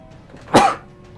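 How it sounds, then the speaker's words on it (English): A single short sneeze bursts out from a nearby person during a Pirate101 gaming session, sharp and loud against quiet background. "I always sneeze."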